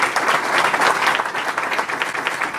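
Stand-up comedy audience at an improv show bursting into steady, dense applause, a loud wash of many hands clapping throughout.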